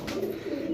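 A pigeon offered for sale among a seller's flock coos softly in a short, low, steady burble, close by and alone.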